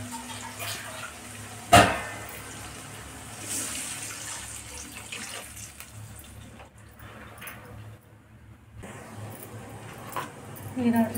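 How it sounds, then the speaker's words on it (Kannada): Water is poured into a cooking pot over turmeric and spices, a faint, soft splashing and trickle heard mostly under a person talking, with a sharp clunk near the start. "ಈಗ ಇದಕ್ಕೆ ನೀರು ಹಾಕೋಣ."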